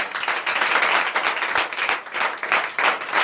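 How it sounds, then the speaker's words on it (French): A church congregation applauding during a night deliverance and prophecy service, dense rapid clapping from many hands close by, steady and loud with no break. "Donnez l'acclamation."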